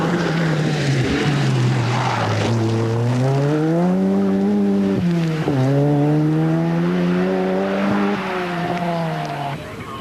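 Powerful Ford Sierra rally cars race along a stage at the 1988 Circuit of Ireland Rally, one engine note loud and close, rising and falling through gear changes and revs for the whole stretch.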